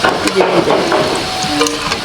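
Stuffed chilli chops frying in hot oil, a steady bubbling sizzle with occasional stirring clinks, close and continuous throughout.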